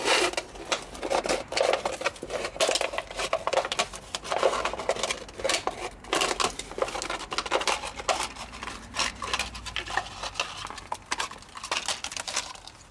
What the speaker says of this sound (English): Cut the top of a plastic bottle.